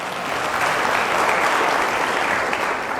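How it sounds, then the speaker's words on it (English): Conference audience giving a round of applause, a loud, full and sustained burst of many hands clapping that stays even throughout, close and without talk. "give a round of applause for yourself"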